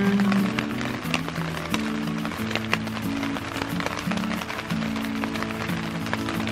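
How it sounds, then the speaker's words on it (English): Steady rain falling at a fish camp, a constant patter close by, with a low tonal hum running underneath and no talking. "And it's raining."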